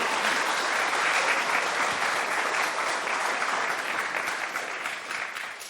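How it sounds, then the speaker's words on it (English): An audience at a talk on environment art applauds, with dense, steady clapping that holds strong and then gradually tapers off toward the end. "Oh, round of applause."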